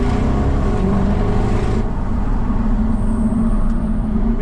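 A Jaguar XKRS driving along a narrow country lane, its engine a deep, steady drone with road and wind rumble, heard close from inside the car without speech.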